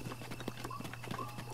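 Horse hooves clip-clopping in Zelda Breath of the Wild, a quick rhythmic run of soft hoof beats at low volume over a faint steady background hum.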